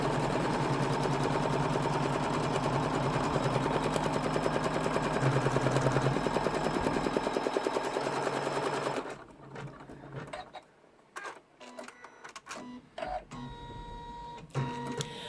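Embroidery machine stitching fabric and wadding to stabilizer, giving a fast, loud, continuous needle chatter for about nine seconds before it stops, leaving softer intermittent mechanical clicks and movements.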